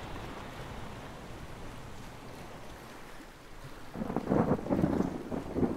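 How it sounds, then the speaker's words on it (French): Thunder rumbles over a coastline as a storm arrives, a continuous low roar blended with surf and rain-like hiss, swelling into heavier rolling bursts during the final two seconds. "Comme beaucoup d'animaux, les manchots redoutent les grondements du tonnerre"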